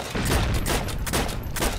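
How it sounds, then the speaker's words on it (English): Rapid gunfire in the World War II shooter game Heroes and Generals, a dense, loud burst of overlapping shots fired in quick succession across the whole short moment. "Just rapid firing into the bushes!"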